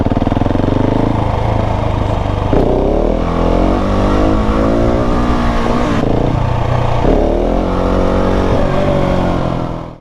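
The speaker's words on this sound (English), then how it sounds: "just giving it a little bit of throttle, a little bit of gas, just to keep that front coming up." A 690 motorcycle engine revs hard and close as the throttle opens for a wheelie, a loud, continuous roar with pitch rising and falling through repeated throttle pulls.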